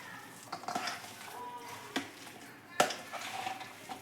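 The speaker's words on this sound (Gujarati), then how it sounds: "આપણે બધું જ હવે મિક્સ કરી લઈશું" Boiled chickpeas and potato masala are stirred together in a metal pan, producing faint soft scraping with a few sharp spoon-on-vessel clinks at irregular intervals.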